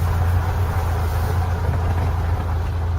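A car engine running steadily while driving slowly around a yard, a constant low rumble with an even hum, close and unchanging throughout.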